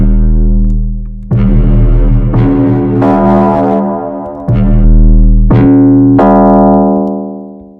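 A pitched bass synth with reverb sounds in loud, sustained notes that slide between pitches, each new note striking over the lingering tail of the last, with no speech.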